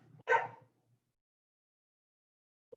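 One dog gives a single short, loud bark in a quiet indoor room during a yoga class. Silence follows, broken only by a tiny faint tick at the end.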